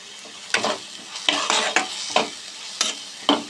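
Tomato and masala paste being stirred in a hot frying pan for chicken tikka masala, with a sizzling hiss and a run of distinct scraping strokes of the spoon across the pan, close and fairly loud, no talking.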